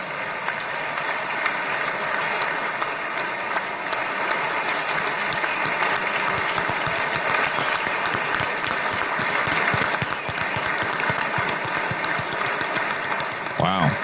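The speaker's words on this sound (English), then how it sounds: "Wow, very long round of applause here." Long round of applause from a large audience at an Israel Prize award address, a dense, steady roar of clapping that holds throughout with faint voices mixed in.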